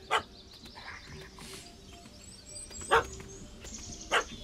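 A dog barks in The Witcher 3: Hearts of Stone, with three short, sharp barks spread out at spaced intervals over a low, quiet game ambience.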